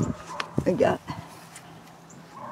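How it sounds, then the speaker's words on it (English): Dogs bark in a few quick, yelping bursts near the start, fairly close and mixed with a person talking, before settling into quiet background noise. "Sorry about the dogs."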